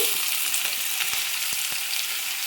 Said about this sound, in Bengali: তার জন্য আমি কড়ার মধ্যে দিয়ে দিলাম রসুন কুচোনো পেঁয়াজ কুচোনো